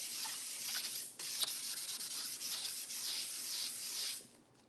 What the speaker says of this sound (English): so I really do have to sand it.